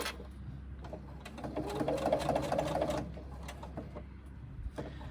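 A sewing machine stitches steadily down the outside edge of a sling, a close, even mechanical whir that swells in the middle and then slows.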